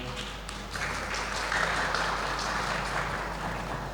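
A festival audience applauds after a sholawat performance, producing a dense, steady patter of clapping that grows a little louder partway through, with a low hum underneath.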